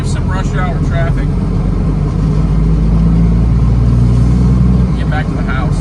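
A hopper bottom semi truck drives through rush hour traffic. Its engine drones loud and steady from start to end, with a deep rumble and muffled voices under it.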